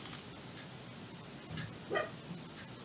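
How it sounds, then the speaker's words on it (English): A dog gives a few short, fairly faint barks and yips, spaced irregularly over a steady background hiss with no talking. "has done nothing but bark today"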